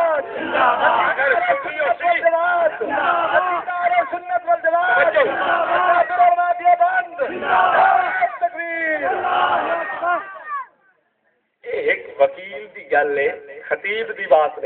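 A crowd at a Sunni religious rally shouts back in unison to the Nara-e-Takbir call, loud massed voices rising in repeated chanted bursts, close and full, with a short silence before one more round of shouting.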